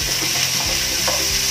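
Meat dropped into hot garlic oil for dinuguan, a loud close sizzle of frying with stirring underneath, no talking.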